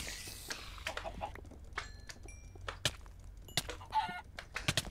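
A dire chicken in the game Hack/Mine clucks and squawks in scattered sharp bursts over several seconds, with a crowing-like call and clicky game effects mixed in, fairly quiet overall.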